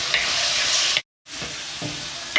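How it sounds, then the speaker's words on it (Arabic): Diced chicken breast fries in ghee in a pan, giving a steady loud sizzle with stirring scrapes, broken by a short silent gap before the sizzling resumes. "قطعته هكا بكيب، نحطوه يتقلى شويه"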